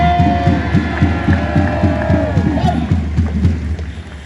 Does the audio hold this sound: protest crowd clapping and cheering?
yes